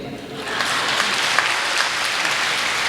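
An audience at a Hindi comic poetry recital bursts into applause, a dense wash of clapping that swells within the first half second and holds steady, with no voices.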